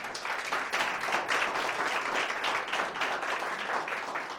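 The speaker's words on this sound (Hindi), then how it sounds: "आपकी तालियां छोटी है" During a sermon, a church congregation claps in a steady, dense wash of applause that stays even throughout, at a moderate level with no clear speech.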